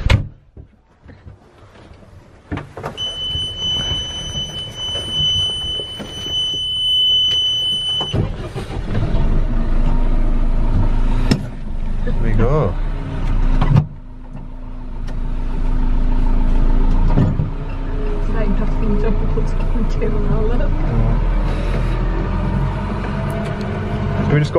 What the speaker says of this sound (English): we're in the big JCB